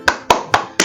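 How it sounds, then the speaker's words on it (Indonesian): A class claps in unison four times at a steady even beat, each a sharp close hand clap, with no voices in between. "Tepuk semangat, kita mulai."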